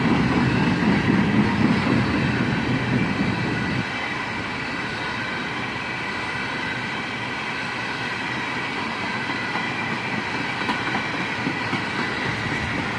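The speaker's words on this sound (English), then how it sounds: "a large cut of empty steel slab cars on the end of this train" Freight train with steel coil cars and a long cut of empty steel slab cars rolling past, a steady loud rumble and rattle of wheels that eases slightly after the first few seconds and continues without a break.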